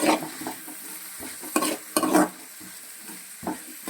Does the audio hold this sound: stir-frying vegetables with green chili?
yes